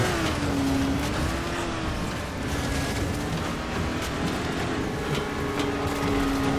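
A vehicle in Dying Light: The Following drives with a steady engine drone, its pitch gently rising and falling as it moves along, loud and continuous throughout.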